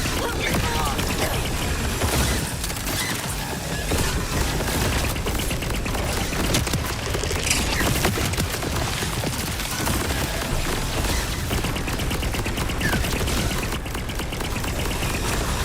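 Sustained rapid gunfire from the video game Borderlands 4, played on PC: dense, continuous automatic bursts of small bullets with mechanical clatter, loud and steady throughout.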